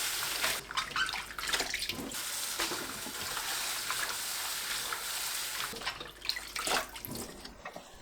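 Bellflower root being rinsed in water, a continuous splashing rush like running tap water with a few louder swishes, close by and without talk.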